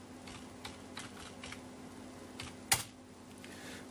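Someone types a password on a computer keyboard at a Linux terminal: a run of soft, fast key taps with one sharper clack near the end, steady and close with no speech over it.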